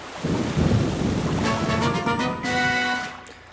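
A dark, stormy night in The Legend of Zelda: The Wind Waker HD brings rumbling thunder over steady rain, with bright ringing tones rising briefly above the storm.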